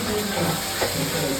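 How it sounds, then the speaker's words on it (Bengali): Spices fry in a pan for a Bengali-style paneer dish, giving a steady close sizzle with a soft stirring scrape partway through. "এই যে মশলা ভাজা হয়ে গেছে"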